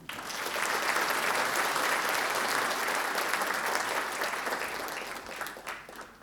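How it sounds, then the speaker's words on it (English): An audience at an Indonesia-Singapore business forum breaks into sustained, even applause lasting several seconds before tapering off at the end; dense, moderately distant clapping with no talk. "Please give a big applause to start this forum."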